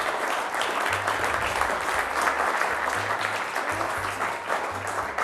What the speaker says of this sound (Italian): Un applauso, fai pure lì.